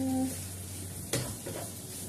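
Instant noodles being stirred and tossed as they fry in a pan, steady sizzle throughout with a sharper utensil scrape near the middle and faint background hum.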